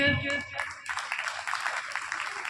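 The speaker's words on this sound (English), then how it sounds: "big round of applause for our teachers" Applause for teachers at a school event, a dense crowd clapping steadily after a brief opening of a voice, continuing at moderate loudness throughout.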